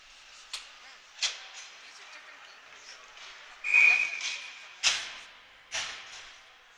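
A referee's whistle blows at an ice hockey playoff game, a short shrill blast over arena noise, with sharp scrapes and knocks before and after.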